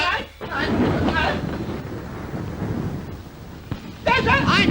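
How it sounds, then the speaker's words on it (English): Thunder and rain from an approaching storm in a 1939 British comedy film: a continuous low rumble with rain hiss that swells at the end, with voices briefly over it. "There's a storm coming up."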